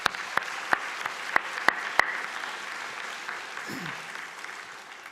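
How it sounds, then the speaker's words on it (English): Scattered, sparse claps from convocation graduates applauding themselves, six or so distinct sharp hand claps in the first two seconds that quickly die away into quiet room tone. "Please give yourself a well-deserved round of applause."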